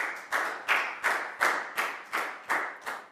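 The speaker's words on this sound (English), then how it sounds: "High five and a big round of applause for Lakgao" A pupil's classmates clap in a Year 4 maths lesson, nine sharp, evenly spaced claps in a steady rhythm, close and clear with no talk.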